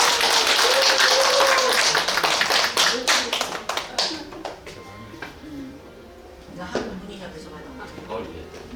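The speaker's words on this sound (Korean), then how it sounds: "다시 한번 큰 박수 주세요." Audience applause at a year-end poetry recital, a loud burst of clapping that thins out into scattered claps after about four seconds and fades. Brief voices can be heard near the end.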